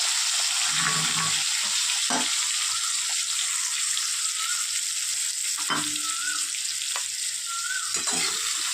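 Spice paste frying in hot oil gives a loud, continuous sizzle up close, with a few stirring scrapes and knocks from a utensil and no talking.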